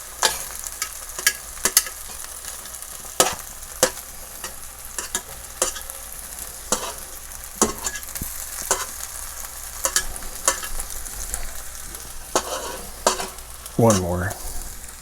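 Brussels sprouts fry in a hot pan with a steady crackling sizzle, broken by sharp clicks and scrapes of stirring throughout, then a louder clatter near the end; no one speaks.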